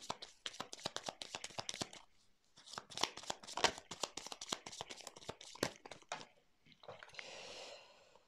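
Tarot cards are shuffled close by in rapid riffling flicks, a dense run of crisp slaps that pauses briefly, then a softer rustle at the end; no speech.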